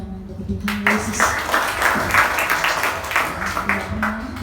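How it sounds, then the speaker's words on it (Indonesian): A church congregation claps through a Christmas worship service, a steady wash of applause filling the room with faint background tones beneath. "Sekali lagi beri tepuk tangan untuk Tuhan Yesus."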